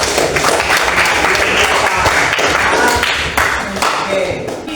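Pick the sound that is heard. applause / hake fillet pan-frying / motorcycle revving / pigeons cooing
applause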